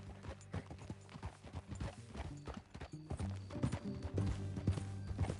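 Horse hooves clip-clop at a walking pace in Red Dead Redemption 2, an uneven series of soft nearby hoofbeats over a low ambient hum.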